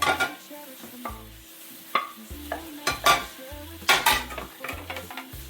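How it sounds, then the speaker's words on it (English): Vegetables and garlic being stirred in a hot pan for a Mediterranean seafood stew, with a steady sizzle under repeated scraping and clattering strokes of a utensil against the pan, close and moderately loud. "So I'll be adding the rest of the vegetables, except for the garlic."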